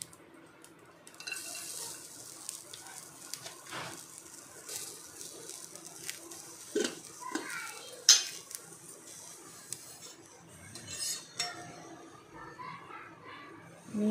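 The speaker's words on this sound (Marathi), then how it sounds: "आता मी कांदा भाजत आहे." Onion frying in a pan in a home kitchen, with a light sizzle under frequent stirring scrapes and metal clinks against the pan, close and fairly quiet, no voices.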